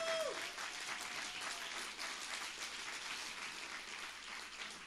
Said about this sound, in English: And a big applause for Christina, who has been doing really an amazing job.